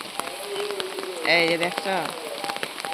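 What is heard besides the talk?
heavy morning rain falling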